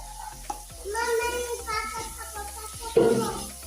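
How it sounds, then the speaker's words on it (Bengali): Ginger garlic paste is stir-fried in a pan with a steady sizzle and scraping stirs, while a child and an adult talk over the cooking. "ভালো করে কষাই নিই"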